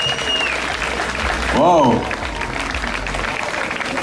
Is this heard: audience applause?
yes